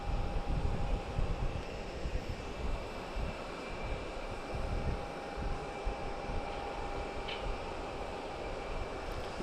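Jet airplanes take off at Logan Airport in Boston with a continuous low rumbling roar heard from a distance, steady throughout with a faint tonal whine above it and no voices.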